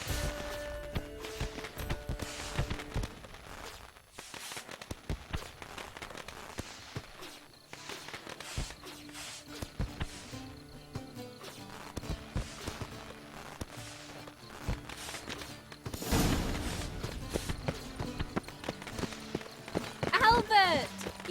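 Horse hooves clip-clop over a steady game soundscape in The Witcher 3, a repeated near rhythm of hoof strikes that runs through the stretch alongside music and other effects, with voices speaking.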